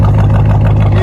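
A 2021 Dodge Durango R/T with straight-pipe exhaust idles close by, making a loud, steady, deep rumble with no voices.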